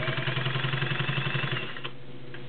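A Singer Slant-O-Matic 404 straight-stitch sewing machine pushes through four layers of leather, its motor humming steadily with a quick rhythmic needle chatter that eases off partway through, close up with no talking.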